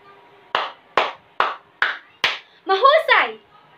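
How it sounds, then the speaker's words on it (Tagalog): During a classroom lesson, five sharp, evenly spaced claps ring out close by, each a crisp single hit, followed straight away by a loud spoken cheer. "nais kong bigyan ninyo ng 5 palakpak ang inyong mga sarili"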